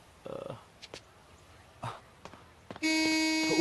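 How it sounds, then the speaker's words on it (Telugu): A loud, sustained vehicle horn blares near the end on a street, after a few scattered footsteps and bumps. "హారన్."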